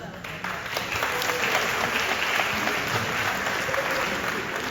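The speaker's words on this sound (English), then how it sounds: "Another round of applause" A crowd at a community college resource fair keynote gives a sustained round of applause for the speaker, steady, loud and even throughout.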